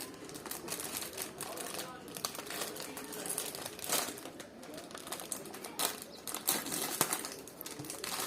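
Plastic packaging on a Labubu box is torn and crinkled open close up, with irregular rustling bursts and crackles throughout at a fairly quiet level.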